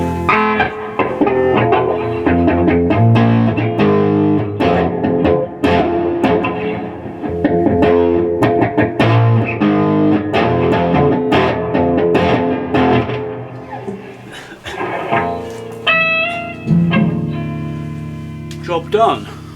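An electric guitar with overdrive plays through a Blackstar HT5 valve amp with reverb added, strummed chords and single notes ringing out loud and close for the full stretch.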